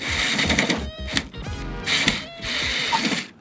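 Screws holding old weatherstrip on a station wagon are undone with a power driver, giving close whirring bursts with brief pauses and mechanical rattles, nobody talking.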